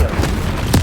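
A fiery Incendio spell blast goes off in the Hogwarts Legacy video game: a short, loud burst over a steady rumbling game soundscape, with a brief muffled boom just before it.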